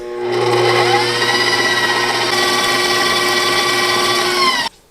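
Electric mixer beating keto, gluten-free pound cake batter with the dry ingredients just added: a loud, steady whirring drone that holds for about four seconds and then cuts off abruptly, with no talking.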